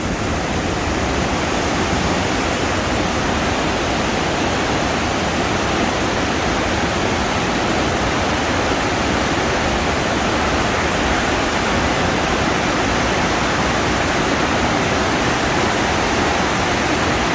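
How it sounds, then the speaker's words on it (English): Talon Chutes waterfall running high and strong, a loud, steady roar of heavy flowing water that fills the whole scene without pause. "the water is actually pretty high at this time and flowing pretty good"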